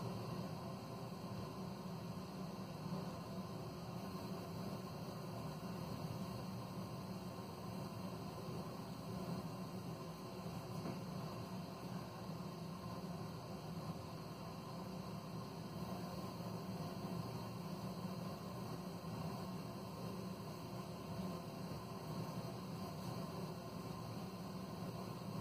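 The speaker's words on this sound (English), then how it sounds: "I'll basically just inject CO2 gas" A steady, faint hiss of CO2 gas flowing from a cylinder through a regulator set around 5 psi and out a hose, continuous and unchanging for the whole stretch with no voices.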